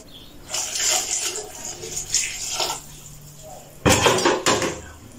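Tile grout powder and water are stirred in a small container for bathroom tile sealing, giving loud scraping, clinking bursts in two clusters separated by a short quiet pause.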